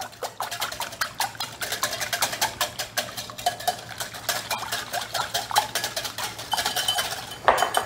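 Rapid whisking of milk with beaten mixture in a bowl for a chicken fillet casserole, a steady run of quick clinking strokes against the bowl, close and fairly loud, with no talking.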